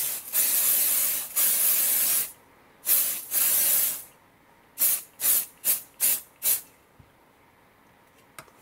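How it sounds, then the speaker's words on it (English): Pixie Spray repositionable light-tack adhesive sprayed from an aerosol can onto a stencil: two long loud hissing bursts, then two shorter ones, followed by a quick run of five brief puffs, close and alone. "So I like to take this pixie spray, which is a light tack, it's a repositionable."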